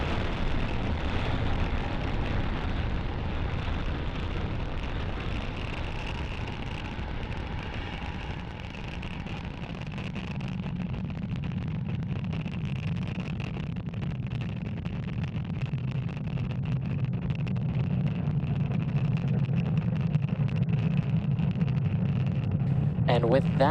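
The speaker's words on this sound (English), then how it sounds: "successful liftoff of our Starlink satellites on our Falcon 9 vehicle" A SpaceX Falcon 9 rocket carrying Starlink satellites lifts off with a distant, broad, wind-like roar that swells and deepens over time, under steady launch commentary.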